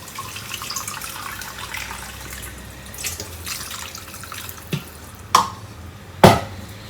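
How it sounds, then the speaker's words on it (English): Water is added to a pot of masoor dal made with powdered red lentils, turmeric and chilli powder: a soft steady trickle, then a few sharper splashes and pours toward the end, with no talking. "I'm going to add 2 cups of water."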